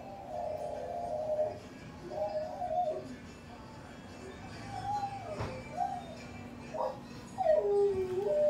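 A rescue dog howls and whimpers along with a morning TV news theme song, giving long wavering cries broken by short yips over steady background music and room noise.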